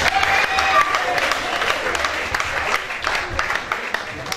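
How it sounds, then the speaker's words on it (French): Audience applause for female dancers at an African arts gala, with scattered claps and crowd noise mixed with voices and cheering in a hall. "Mesdames, est-ce que vous voulez applaudir pour les danseuses particulièrement?"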